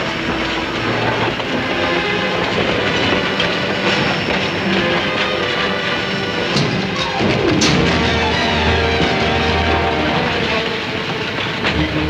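A train runs steadily along the rails with a loud, continuous rumble and metallic clatter of wagons that persists throughout, with no voices.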